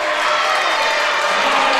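Crowd applauding and cheering at a high school volleyball match, a loud, dense roar of clapping and shouting in a gym, constant throughout with no gaps.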